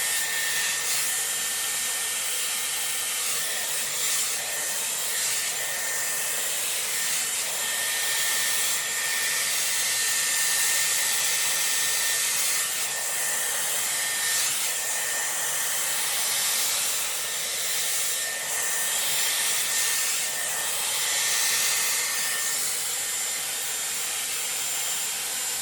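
A Dyson Airwrap blows steadily through hair during a salon-style bouncy blow-dry, a loud, continuous airy whoosh with a faint high whine, its airflow shifting slightly as the styler moves through the hair, with no talking.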